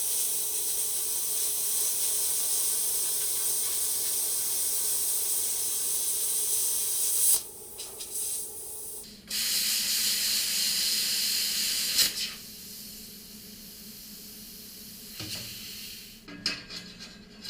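A welding torch works on steel in a workshop with empty gas cans nearby, giving a close, steady hiss that cuts out briefly several times, with faint metallic clinks between bursts.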